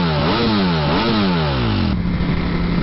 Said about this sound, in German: Das ist übrigens ein Laubbläser.